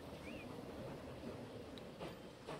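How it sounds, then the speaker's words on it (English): A train rolls past in Transport Fever 2, a steady low rumble of wheels on track at moderate distance with faint clicks and a short squeal near the start. "Is there a train coming the other way?"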